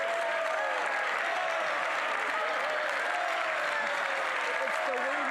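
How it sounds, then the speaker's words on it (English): Members of Canada's House of Commons applaud in a steady, sustained wash of clapping that fills the chamber, with a voice talking over it. "Let's get the applause afterwards."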